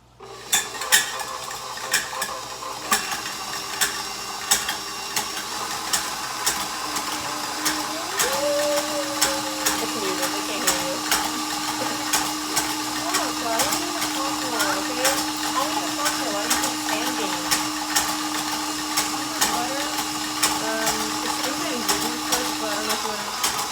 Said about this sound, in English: I'm gonna go ahead and put my electric mixer on medium high